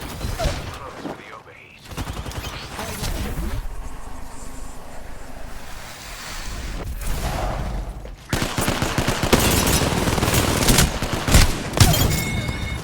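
Rapid bursts of video game gunfire crackle through a busy, loud mix, with voices talking in Ukrainian over the shooting in a game-like action scene.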